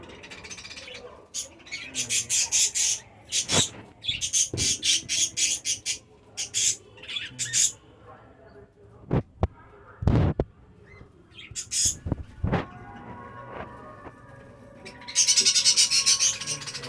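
Harsh, chattering budgerigar squawks come in repeated bursts from a breeding colony in cages, interspersed with sharp clicks and knocks, with some talking in the background.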